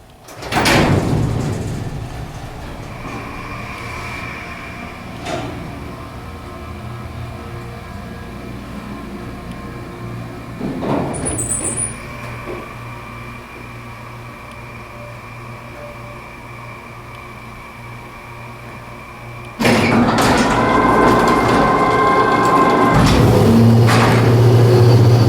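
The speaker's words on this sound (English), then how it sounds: "Let's listen to the motor." An elevator at Town Center at Cobb in Kennesaw, Georgia, hums quietly and steadily as its motor runs. Door and cab thumps break in near the start and middle, and a louder rumble of movement rises toward the end.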